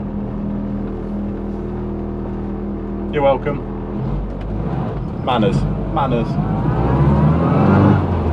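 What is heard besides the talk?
Classic Mini Clubman car engine driving on country roads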